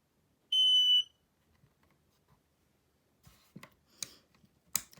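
A gel nail UV lamp gives a single clear electronic beep when it finishes curing, followed by quiet tapping and small handling noises close by.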